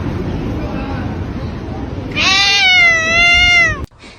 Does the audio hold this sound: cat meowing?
yes